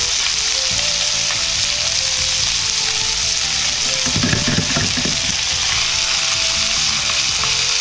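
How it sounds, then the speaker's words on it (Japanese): Pork and green peppers stir-fry on a high flame over a household gas stove, giving a steady close sizzle with occasional scraping stirs and a brief burst of louder crackle midway. "豚肉からあふれ出た油をピーマンに絡めるようにして炒めていきます。"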